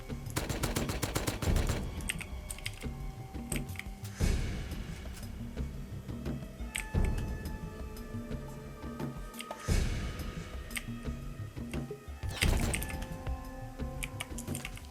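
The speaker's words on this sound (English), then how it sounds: "someone else is shooting at him" Gunfire in the video game Rust, bursts of rapid automatic shots and sharp cracks recurring in clusters every few seconds, loud and close, over a constant background hum with faint clicking between volleys.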